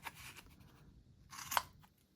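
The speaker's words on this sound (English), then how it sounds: "with scissors, cut the yarn." Scissors snip through a bundle of yarn wrapped about 40 times for crochet tassels, giving a quiet, close crunching cut with one sharp snip standing out.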